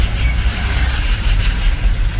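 Loud, steady rumble of heavy truck engines idling and creeping in congested Valenzuela traffic, a close, continuous low drone without any talking.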